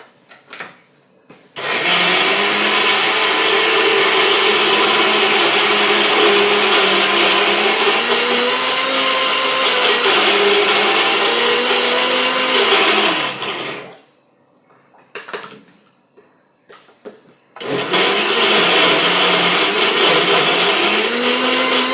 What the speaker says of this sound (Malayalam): അല്പം വെള്ളമൊക്കെ ചേർത്ത് മിക്സി വെച്ചിട്ടൊന്ന് അടിച്ച് ഇടുവാണെങ്കിൽ എളുപ്പം അരിഞ്ഞ് കിട്ടുമേ.